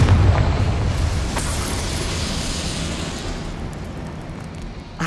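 A Confringo spell in Hogwarts Legacy erupts in a deep explosive boom, then a long rumbling roar that slowly dies away, loud and close.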